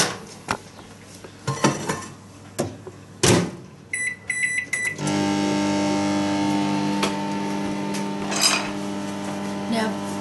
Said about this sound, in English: So I'm going to put these in the microwave for this size dish for 6 minutes.